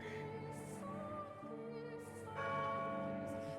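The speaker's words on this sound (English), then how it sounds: "the church bell tolled." A church bell tolls within the video game The House in Fata Morgana, with deep resonant strikes that ring out and decay under soft musical accompaniment, fairly faint overall.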